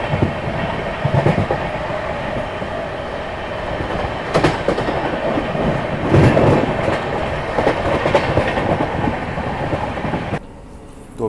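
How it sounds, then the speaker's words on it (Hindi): Patna Express passenger train running with steady rumble and rhythmic clickety-clack of wheels over rail joints, loud and close from inside the coach, with a few sharper knocks before the noise drops away near the end. "अपनी ट्रेन जो है वो जस्ट अभी गोविंदपुरी कानपुर से निकली।"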